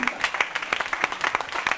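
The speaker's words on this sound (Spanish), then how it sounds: "Denle un aplauso al Señor" A church congregation applauds during a Sunday sermon, with rapid uneven clapping from many hands at fairly close range that carries on throughout.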